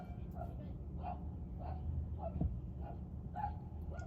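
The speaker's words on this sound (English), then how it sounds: "Little pooch got some bullshit fighting with a big dog" A small dog barks in a string of short, sharp yaps about every half second while fighting with a big dog outside the Dakota in New York City, with faint street noise behind.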